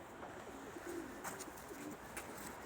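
Homing pigeons, including a grey cock on a Belgian ring, coo softly at a distance against a steady low background hiss, with a few faint chirps; no one speaks.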